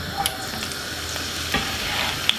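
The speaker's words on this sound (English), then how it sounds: "We're gonna put in all of those lovely veg we should just cut up a while ago and fry them off." Chopped vegetables sizzle steadily in a pan with a little olive oil for a salt fish fry-up, with a few clanks and stirring scrapes breaking through the continuous hiss at close range.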